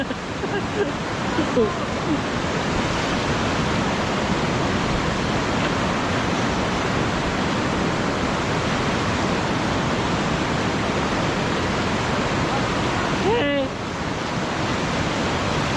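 Steady, loud roar of a strong river current rushing after a typhoon flood fills the whole stretch, broadband and unbroken, with a brief faint voice near the end.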